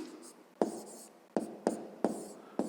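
Pen writing on paper while working a fifth-grade math exercise, soft scratching strokes broken by about five sharp taps as the pen lands, close and quiet with no talk.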